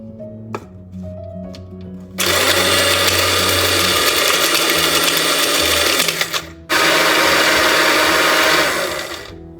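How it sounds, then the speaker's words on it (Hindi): Garam masala whirs in an electric grinder after a few opening knocks, running loud and continuous in two long bursts separated by a short pause. "यहाँ पर मैं गरम मसाला ग्राइंड कर रही हूँ।"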